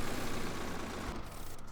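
A tractor engine idles in the farming game Farming Simulator 2013, a steady low droning rumble throughout with no voices.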